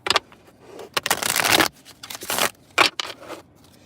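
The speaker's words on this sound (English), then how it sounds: "Shuffle these up one more time." Cards being shuffled in quick riffling bursts with short pauses between, close and fairly loud, no talking.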